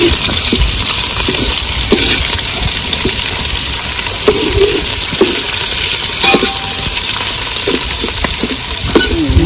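Onions fry in hot oil with green chillies and mustard seeds, making a loud, continuous sizzle broken by occasional clicks of a spoon stirring the pan.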